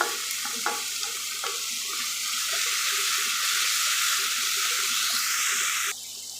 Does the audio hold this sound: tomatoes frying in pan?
yes